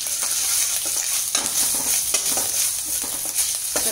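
Ginger-garlic paste and finely chopped green chillies frying over high flame in a pan, a steady close sizzle with occasional stirring scrapes and crackles throughout.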